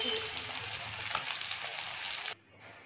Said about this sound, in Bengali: এইদিকে দেখো মাছ ভাজাটা হচ্ছে